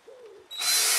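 A power drill, borrowed, bores a pilot hole to mount a bracket on a 3D printer setup, a faint hum briefly, then a loud high whine as the bit spins up and bites.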